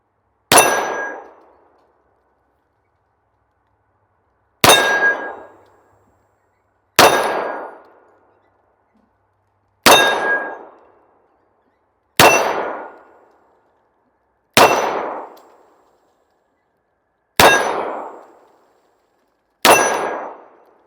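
Eight sharp metallic clangs of .45 ACP bullets striking steel targets, each ringing out and decaying, spaced a few seconds apart with silence between.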